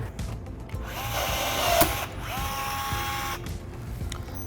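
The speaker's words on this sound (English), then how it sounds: "pass my drill through it" A power drill briefly runs through a rivet hole while installing a side rocker panel on a C8 Corvette Stingray Z06, short whirring bursts close by with a light mechanical rattle.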